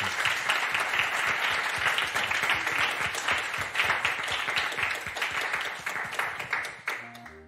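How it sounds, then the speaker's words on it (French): Audience applause rings out at the close of a recorded podcast discussion, dense steady clapping from a crowd that carries on for several seconds before tapering off at the end. "Je crois qu'on va pouvoir vous applaudir."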